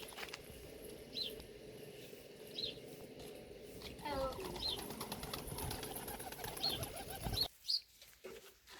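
Soft pigeon coos and faint chirps in a quiet space, followed by a flurry of wing flaps and nearby rustling.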